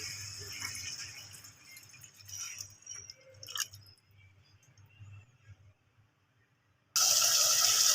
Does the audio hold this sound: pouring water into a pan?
yes